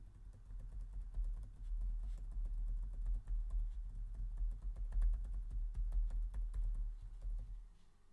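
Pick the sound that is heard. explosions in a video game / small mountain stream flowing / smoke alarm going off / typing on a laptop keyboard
typing on a laptop keyboard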